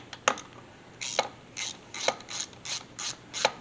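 Close, crisp ratchet clicks come in short bursts as a bolt is run into an LS swap engine mount on a 1977 IH Scout, about eight quick strokes with brief pauses between them and no voices.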